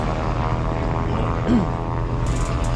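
Small propeller airplane at Goodyear Airport, a steady droning engine hum heard from nearby, continuous and fairly loud with a slight swell midway, no talking.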